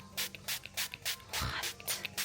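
Miss Mouth's Messy Eaters Stain Treater sprayed onto a stain in a series of short, quick pump-spray hisses, close up, evenly spaced with one longer burst in the middle, and no talking.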